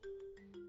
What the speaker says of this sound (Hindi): या प्रेम पापा का फोन